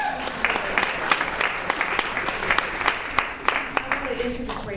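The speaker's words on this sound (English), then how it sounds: "let's give our all selves a round of applause" Audience at an annual congress in Los Angeles applauding, a steady patter of many hands clapping throughout, moderately loud and filling the room.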